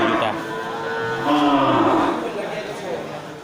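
Large slaughter-ready cattle at a livestock market give deep, drawn-out moos close by, rising and falling over a few seconds while people talk in the background.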